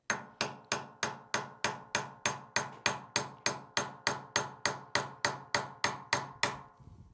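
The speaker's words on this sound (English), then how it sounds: "I'll take my hammer and I'll drive the sight back across while allowing the Talon tool to get pushed out." A hammer taps a pin punch to drive out the sight on a Smith & Wesson M&P Shield 45 pistol, about twenty evenly spaced, sharp metallic strikes in a steady rhythm, close and clear with no talking.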